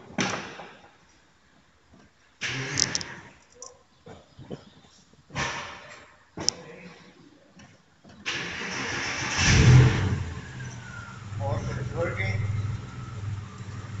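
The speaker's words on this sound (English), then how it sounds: "Right now we will start the Porsche" A 2006 Porsche Boxster engine cranks and fires, then revs up in a loud, close surge and settles into a steady run, with a person talking over the first part.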